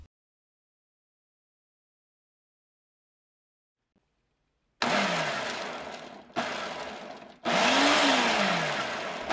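A food processor chopping basil and pine nuts runs in three loud pulses after several seconds of silence, each burst starting abruptly with the motor whirring up and cutting off.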